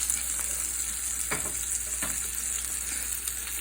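A flounder fillet sizzles in a pan, a steady bright hiss with a few faint pops and spatters, close and alone with no talking.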